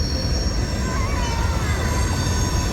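A long six-engine CSX freight train rolls past on the tracks in a dense, steady roar of wheels and cars, with a faint high wheel squeal riding over the rumble, close and continuous.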